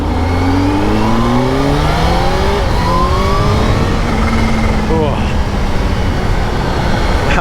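A Kawasaki Z H2 sport motorcycle's loud engine revs up through rising gears, its pitch climbing repeatedly with wind rush underneath, close to the microphone.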